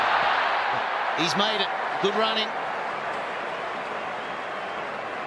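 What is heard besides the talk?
cricket stadium crowd cheering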